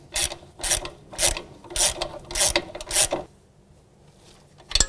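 A hand ratchet snugs the sway bar link nuts on a 2007-2013 Acura MDX front suspension, six sharp, evenly spaced bursts of clicking close by, then a pause and one more short click at the end.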